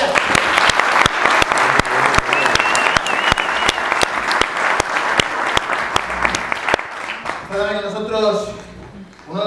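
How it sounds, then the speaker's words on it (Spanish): At an ecommerce event, the audience gives a strong round of applause for a speaker, sharp and loud claps in a rhythmic, almost unified beat that fades as a voice begins talking near the end. "Un fuerte aplauso a Ricardo Tallas."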